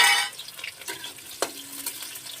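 Onions fry in a pan with a bright hiss that fades after the first moment, then settles into a softer sizzle broken by scraping stirs and a sharp clink.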